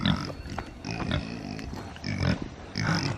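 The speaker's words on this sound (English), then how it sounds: "Now it's the pigs' turn for their breakfast." Farm pigs at breakfast time, a run of close, loud grunts and oinks in short bursts, several pigs overlapping with snorty rhythmic sounds across three seconds, no talking.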